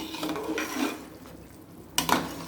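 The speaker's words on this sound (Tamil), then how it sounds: "இப்போ பாருங்கள் நல்லா கொதிச்சிட்ருக்கு" Water bubbles away in a pot for vegetable biryani before the rice goes in, a soft, close simmer with a sharper clink of metal near the end.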